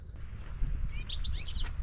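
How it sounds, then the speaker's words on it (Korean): Birds chirp faintly in short, high tweets over a low outdoor rumble on a walking path in Ohrid, scattered through the second half. "아우 새소리 들리는 거봐"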